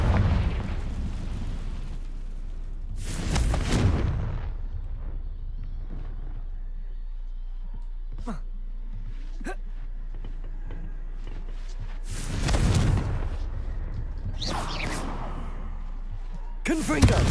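Booming blasts from the Confringo blasting spell in Hogwarts Legacy, two or three heavy bursts spaced several seconds apart with quieter spell effects between them. A voice calls out spell names.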